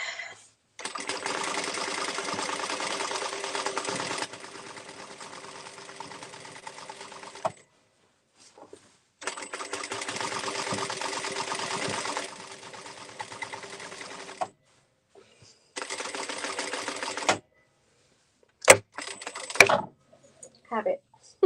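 An industrial sewing machine does free motion quilting on a baby quilt. It runs in several long bursts of rapid, loud stitching separated by pauses, with brief clicks and handling noises near the end.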